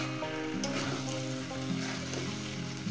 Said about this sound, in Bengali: এবার এটাকে শুধু কষানো হবে, কোনো জল টল কিছু করবে না